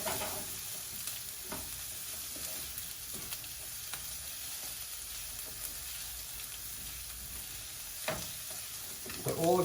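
Risotto rice fries in a generous glug of oil while a spoon stirs it around the pan, making a continuous close sizzle with occasional sharper scrapes and clicks, no talking.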